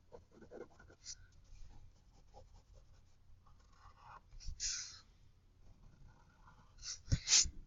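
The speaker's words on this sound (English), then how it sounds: "we're drawing everything in nice and light first." Pencil lightly drawing parallel construction lines on paper for a technical graphics exercise, soft intermittent scratchy strokes with a few sharper scrapes near the end, close and quiet.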